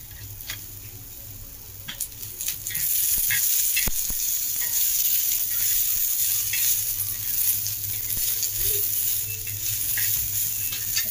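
Ginger and garlic fry in a pan for a chicken curry, giving a steady close sizzle that swells after a few seconds, with scattered ticks and clicks of utensils.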